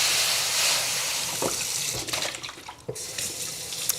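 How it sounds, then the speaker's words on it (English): Tap water gushes steadily into a stainless steel pan during rinsing, a loud, continuous close splashing that shifts in tone as the pan moves under the stream. "And now, rinse your pan."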